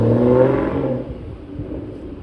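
A yellow Aston Martin V12 at a Deauville car gathering, with a loud, deep engine rev close by that falls away and fades into a lower rumble as the car moves off.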